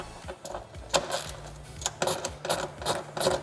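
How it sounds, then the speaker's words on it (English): Socket driver clicks and ratchets while screws are worked out of a Hotpoint washer drain pump, irregular close ticking and scraping taps with short pauses. "we're gonna start working these 3 screws out of there to remove this drain pump"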